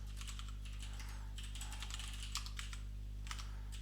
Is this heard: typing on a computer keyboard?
yes